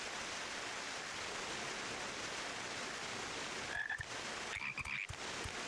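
Toads croak in Final Fantasy XIV, a steady low chorus heard over a rushing, noisy water-like ambience, with a few brief tonal game sounds near the end.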